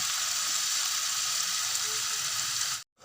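Constant close sizzling and frying of tomatoes with ginger-garlic paste in a pan for a low-oil biryani, steady throughout, then cutting off abruptly near the end.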